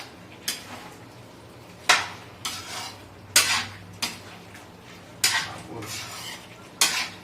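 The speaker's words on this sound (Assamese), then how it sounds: "এতিয়া আকৌ মিক্স কৰি দিম বাম্বুটো মিক্স কৰি দিছোঁ" Bamboo shoot and meat curry stirred in a cooking pot, a spoon scraping and knocking against the metal in about eight loud, separate strokes, each with a short clatter and a fading rasp, and no voices.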